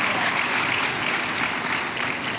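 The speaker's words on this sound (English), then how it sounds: "I think that deserves a round of applause." An audience at a fashion weekend talk breaks into continuous, moderately loud applause, an even wash of clapping that fades slightly toward the end.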